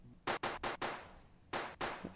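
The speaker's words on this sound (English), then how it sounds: "Why are there gunshots in the background?" Gunfire in a Roblox game: a quick burst of four sharp shots, a pause, then two more, moderately loud with nothing else around them.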